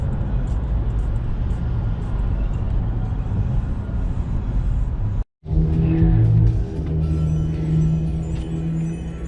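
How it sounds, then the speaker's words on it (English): Road traffic in New Jersey gives a loud, continuous roar of passing vehicles and rushing wind, broken by a brief sudden drop to near silence midway before the din resumes. "New Jersey traffic."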